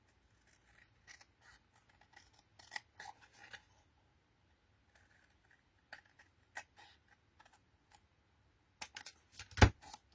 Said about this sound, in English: Quite often I'll just snip around it.